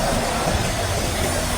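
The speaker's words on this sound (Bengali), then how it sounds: "এটা কিন্তু দার্জিলিং এর খুবই একটা ফেমাস ট্রেন।" The coal-fired Darjeeling toy train from the British era rumbles and clatters along steadily and fairly close by, a short continuous run of rail noise with no talk.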